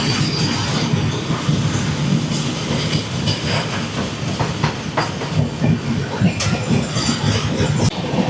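A Sairang Express passenger train runs between Guwahati and Hojai, giving a steady, loud rumble with rhythmic clickety-clack of the wheels and occasional squeals.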